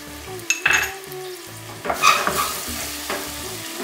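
Ginger garlic paste frying in a kadhai with cooked onion and tomato for kadai paneer, with a steady sizzle and several scraping spoon strokes against the pan, alone without talk.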